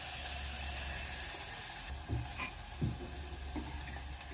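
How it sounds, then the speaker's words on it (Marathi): Dal tempering of coriander and salt sautéing in a pan, a steady low sizzle with a few soft stirring scrapes and clinks near the end, close and moderately quiet, no talking. "थोडी फोडणीलाच कोथिंबीर घालायची"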